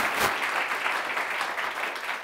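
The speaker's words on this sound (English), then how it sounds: "Let's hear a round of applause for him." An audience at an opera picnic event claps briefly, a steady wash of applause from a modest crowd throughout the short moment.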